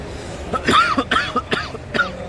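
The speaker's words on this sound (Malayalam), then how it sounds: "ചുമ" Several short, harsh coughs in quick succession, close and fairly loud, with brief pauses between bursts.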